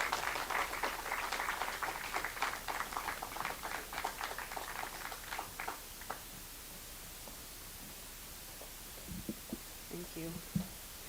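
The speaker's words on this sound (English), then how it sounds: "Everyone, give her a round of applause." An audience claps to welcome a lecturer to the stage at an evening talk. The dense applause is fairly distant and fades out over about six seconds into quiet room tone, with a few faint sounds near the end.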